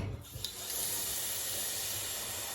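Water runs steadily from a tap while canning tomatoes, a continuous rushing hiss that starts after a brief clatter and stays even to the end.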